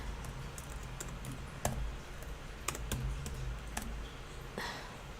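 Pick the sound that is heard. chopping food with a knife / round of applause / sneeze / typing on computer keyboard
typing on computer keyboard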